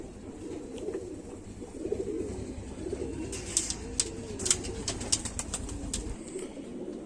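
Kamagar pigeons coo in soft, repeated rolling calls close by, and brighter chirps break in partway through, with no voices present.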